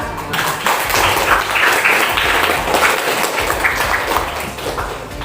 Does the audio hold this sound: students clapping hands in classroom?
yes